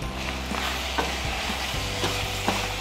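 Goat trotters with chili powder stirred in a frying pan give a continuous close sizzle, with spoon scrapes and taps against the pan at a regular rhythm, no talking.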